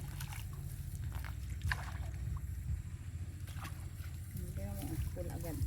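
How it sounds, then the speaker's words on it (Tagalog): Irrigation water rushes strongly into a cornfield with a constant low, churning slosh. Voices talk over the flow at times. "Ayan, lumakas na nga ang tubig."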